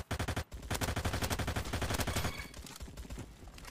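Rapid automatic gunfire in the Roblox game Bad Business: a short burst, a brief gap, then a long, loud, evenly spaced stream of shots that tapers slightly near the end.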